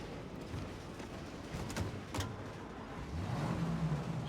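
In the Mafia Definitive Edition video game, a car engine hums faintly and steadily while driving, with a few brief clicks and knocks over the low drone.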